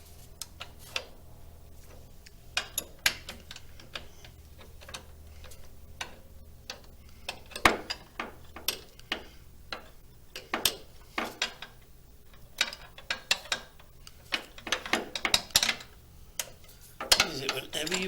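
A ratchet spanner works bolts during reassembly of a Jaguar MKII, giving quiet irregular clicks and taps, with some louder metallic knocks scattered through and a voice talking faintly now and then.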